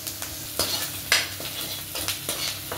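Onions frying in a pan with ginger-garlic paste added, a continuous close sizzle punctuated by repeated scraping stirs at an uneven rhythm, no one talking.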